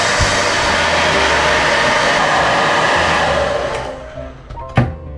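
A close hair dryer blasts air to dry a cleaned, retrobrighted NEW Famicom, a constant loud whoosh that fades near the end before a short clunk as it is handled.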